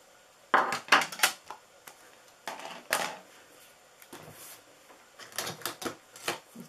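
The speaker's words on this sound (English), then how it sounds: "I'm going to stamp the sentiment, the Happy Easter from this" A rubber stamp presses a Happy Easter sentiment for a DIY Easter treat box, heard as a scatter of close, sharp taps and clacks in short bursts separated by quiet pauses.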